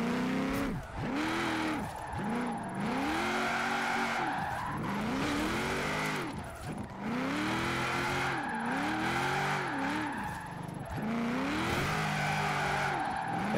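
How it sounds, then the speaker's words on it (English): A Cadillac XTS limousine drifting in the racing game Forza Horizon 4, with the engine revving up and down in repeated surges under long, loud tire squeals and skids that run continuously. "Yes, that is an XTS limousine, and yes, it is a great drift car."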